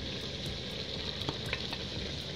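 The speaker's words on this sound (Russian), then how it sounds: "Хорошенько перемешиваем и ждем, обжариваем тоже минутки 3, чтобы перчик наш размягчился немного." Meat with red, green and hot bell peppers sizzling in a pan for Hungarian bograch goulash, a dense steady frying hiss with a few clicks and stirring scrapes.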